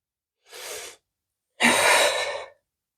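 Two deep breaths during yoga practice, a short soft inhale followed by a longer, louder exhale, each clear and close with silence between.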